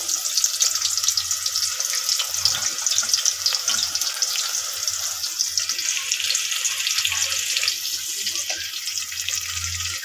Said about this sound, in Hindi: ऑयल गर्म हो जाए फिर इसमें प्याज ऐड करते हैं।